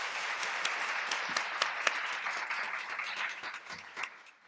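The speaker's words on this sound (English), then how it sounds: "So let's give her a round of applause." Audience at a women's leadership symposium panel in the USF system applauds, steady fairly distant clapping from a room of people that tapers off near the end.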